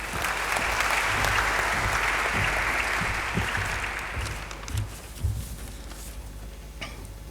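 A big round of applause greets a speaker at a university media society launch, dense clapping from a crowd filling the first few seconds, then thinning into scattered claps and tapering off.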